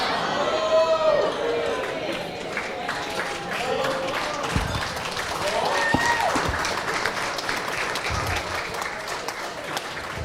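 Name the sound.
wedding guests applauding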